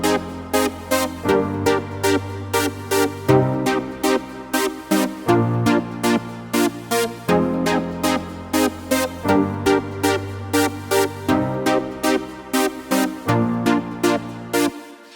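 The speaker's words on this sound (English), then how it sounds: "let's check out the rhythmic chords" Logic Pro synth keyboard chords pulse in a steady, choppy rhythm, loud and bright, with sharp rhythmic gating and shifting harmony over a low bass line.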